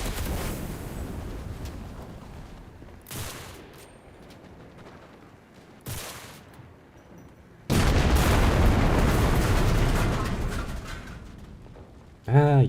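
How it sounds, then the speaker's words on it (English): Explosions and artillery fire in a co-op combat video game where high-explosive and smoke rounds are fired: a few booming blasts over a rumbling background, then a sustained loud barrage of fire before a final sharp burst. "Ah, yes. More explosions."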